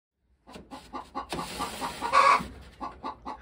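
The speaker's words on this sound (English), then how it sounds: "we may have gone and gotten some chicks too" Chickens in a homestead brooder give a run of close, rhythmic clucking calls that build to a louder cluster midway, then continue at a steady pace.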